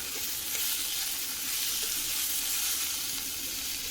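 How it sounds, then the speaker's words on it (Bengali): Chopped tomatoes fry in a pan with a steady, loud hiss and crackle that holds evenly for a few seconds, with no voices. "এবার 7-8টা টমেটোকে কুচি করে সেটাকে ভালো করে ফ্রাই করে নেব।"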